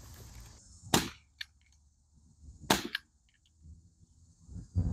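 Two sharp air gun shots fire pellets at a Samsung screen, each a loud crack followed by a smaller impact tick, with a quiet pause between them and a third crack starting at the end.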